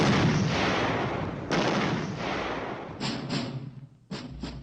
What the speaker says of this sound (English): the troops took up positions on the range and began test firing their weapons.